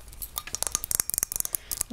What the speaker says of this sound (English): They are made to look like miniature kind of mason jars with a handle.